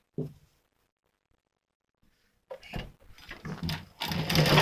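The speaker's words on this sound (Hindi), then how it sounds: "ये अब इसमें हम डबल सिलाई लगा लेंगे।" A sewing machine runs double stitching on a katori cut blouse after a short quiet pause, starting up abruptly with a whirring, rattling mechanical run that grows louder toward the end, close by.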